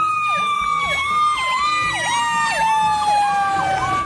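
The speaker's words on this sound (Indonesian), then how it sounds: "ada truk pemadam kebakaran" A toy fire truck plays a loud electronic siren that wails in quick, regular rising-and-falling sweeps, repeating about every half second for the whole stretch, with a faint mechanical hum underneath and no voices.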